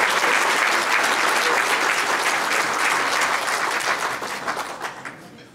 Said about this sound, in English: if we could give everyone that's standing a round of applause